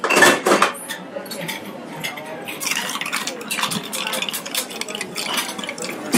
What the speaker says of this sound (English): Stirred down, not too much.